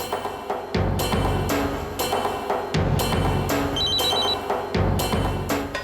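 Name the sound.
telephone ringing after redialing a call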